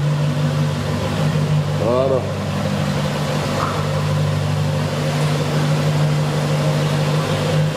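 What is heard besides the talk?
SVR supercar engine driving out of the garage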